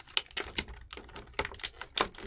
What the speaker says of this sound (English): Alright, so we gotta peel some tape.